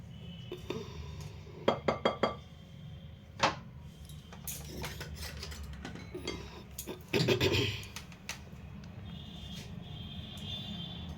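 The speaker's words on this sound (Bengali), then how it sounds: "এবার এগুলোকে ভালো করে মিশিয়ে নেব, শুকনো আইটেমগুলোকে" Dry ingredients for an eggless cake are mixed in a bowl, with scattered clinks and taps of a utensil against the bowl, a quick cluster of knocks early on and a louder scraping burst midway, otherwise quiet.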